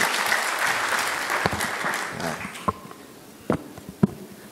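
An audience at an accountants' annual general meeting applauds an outgoing council member, a dense burst of clapping that gradually thins out into a few scattered, isolated claps.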